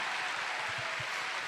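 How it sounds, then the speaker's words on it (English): A large crowd applauds steadily at a Star Wars Celebration fan event, a dense, continuous wash of clapping throughout. "So give yourselves a big round of applause."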